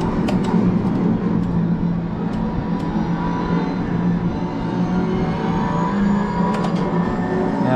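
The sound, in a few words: race car lap in video game Assetto Corsa Competizione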